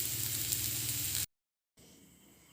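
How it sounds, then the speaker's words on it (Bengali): Potatoes fry in oil with salt and turmeric in a steady, close sizzle that cuts out abruptly, then returns as a much quieter hiss. "এই যে আলুটা ভাজতে বসিয়েছি নুন হলুদ দিয়ে"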